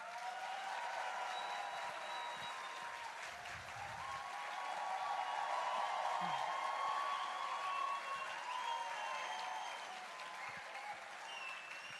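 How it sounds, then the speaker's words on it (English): Audience applause for Sadhguru at a Save Soil event in Jordan, a continuous wash of clapping from a large crowd with whoops and cheering voices over it, steady throughout at moderate distance. "A big applause to Sadhguru."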